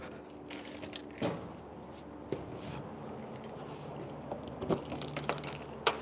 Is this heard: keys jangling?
yes